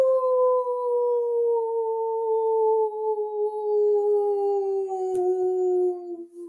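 Children imitate a wolf howl with one long, loud, sustained tone that glides slowly downward for several seconds, heard alone.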